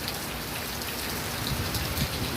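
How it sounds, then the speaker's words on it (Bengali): Steady rain falling outdoors on an evening, a dense even hiss of drops on surfaces with a low continuous wash, no voices. "এখন বিকাল 5টা। এর ভিতরে বৃষ্টি শুরু হয়ে গেছে।"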